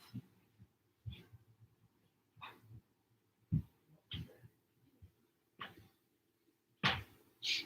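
Muffled dog barks repeating every second or so from another room, faint and distant, growing a little louder toward the end.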